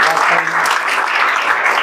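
An audience at a JEE Main 2024 results celebration bursts into brief, dense applause, a steady wash of clapping that lasts under two seconds.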